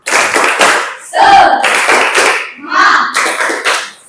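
A primary school class claps together on cue in rhythmic bursts of loud, close hand claps, with the group chanting along between the beats.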